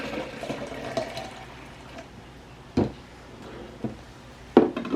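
Fresh celery juice pours into a pitcher, about 600 milliliters of liquid, as a steady low trickle broken by a few short splashing bursts, near and moderately loud with no talking.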